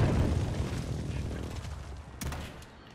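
Airstrike explosions in the Call of Duty battle royale, dense low booming rumble that fades over a few seconds, with a sharper blast near the end and some voices underneath.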